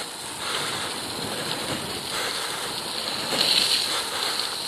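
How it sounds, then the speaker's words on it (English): Steady broadband wind roar from a north wind buffeting a cyclist commuting by bicycle through Toronto in January, loud and continuous with gusty swells and no voices. "I can feel that north wind coming against me"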